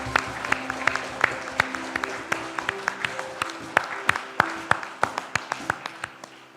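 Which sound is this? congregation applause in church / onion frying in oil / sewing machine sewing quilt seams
congregation applause in church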